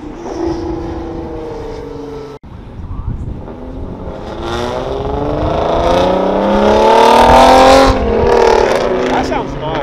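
A Lamborghini Aventador engine revs nearby, its pitch climbing and swelling louder over several seconds into a high, rising wail after a brief cut.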